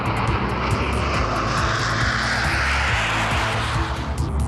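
Saab Viggen single-engine fighter jet roaring loudly and continuously, a dense, steady engine blast with no voices.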